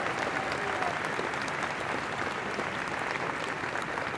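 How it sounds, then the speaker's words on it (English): Steady, even applause from a large commencement audience, a continuous wash of clapping with no gaps, heard from some distance at moderate level. "give them a great round of applause"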